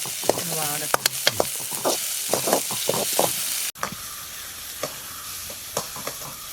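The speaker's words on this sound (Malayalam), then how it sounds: "ഈ നെയ്യ് തന്നെ ഇട്ടിട്ട് ഒന്ന് വഴറ്റിയെടുക്കാം" Chopped vegetable pieces sautéing in ghee for drumstick leaf soup, a steady close sizzle with repeated scraping stirs of a spoon in the pan, loud and alone without talk.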